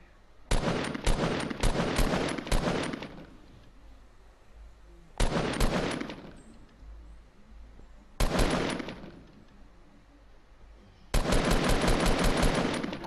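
Bursts of automatic gunfire from a shooting video game, four loud rapid-fire volleys of a few seconds each separated by quieter pauses, with no talk over them.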